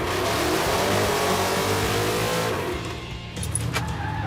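A high-horsepower muscle truck engine revs hard and loud, then the roar drops away partway through, leaving a lower rumble.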